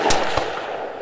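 A rifle shot fired at a long-range target out to 600 yards, a single sharp loud crack near the start followed by a fainter echoing report.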